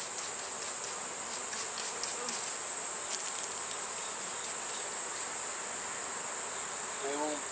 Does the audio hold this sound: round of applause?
no